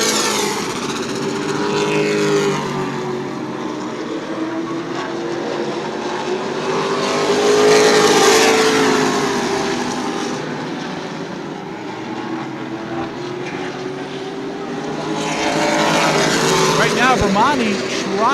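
Pro Late Model race cars roar around New Smyrna Speedway, including a blue number 24 Ride Tech Chevy and a number 97 Toyota; a loud, continuous engine drone swells and fades as cars pass, with a commentator talking over it.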